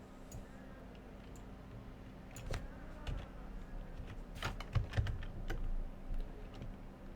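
Typing on a computer keyboard, a close, steady run of crisp clicking keystrokes that grows busier toward the end, with no voices.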